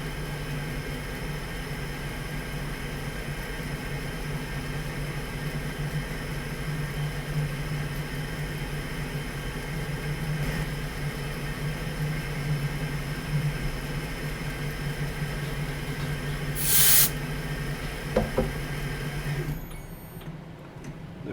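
A milling machine cutting an assembly fixture at about 500 RPM produces a steady, even hum and whir, a sharp burst near the end, then quiet.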